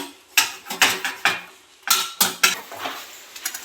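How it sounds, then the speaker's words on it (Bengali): Sabudana papad batter with a little oil is mixed by hand in a metal plate, sharp clattering taps and scrapes arriving in uneven clusters of several knocks, close and fairly loud, with no voices. "থালটা ভালো করে মিশিয়ে নিচ্ছি।"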